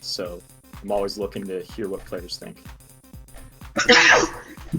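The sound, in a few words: sneeze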